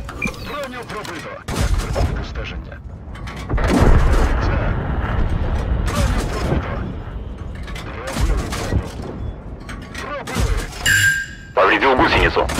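Tank cannon fire in a World of Tanks style battle with a Valentine II tank, loud booming shots and mechanical clatter throughout, under a steady stream of radio-style voice callouts.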